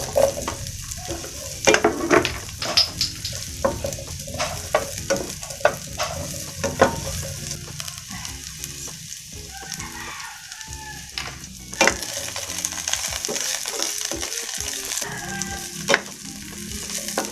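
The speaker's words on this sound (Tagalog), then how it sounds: "Magisa na tayo ng bawang sibuyas." Garlic, onion and carrots sautéing in a pan for pork estofado, a steady close sizzle and crackle of frying with scattered stirring scrapes and clinks throughout, no talking.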